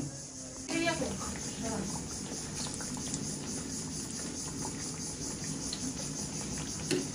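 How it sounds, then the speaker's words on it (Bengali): Battered eggplant fritters (beguni) fry in hot oil with a steady, close sizzle and bubbling throughout, while people talk quietly in the background. "আর আমি হচ্ছে এখানে বেগুনিগুলো ভেজে নিচ্ছি"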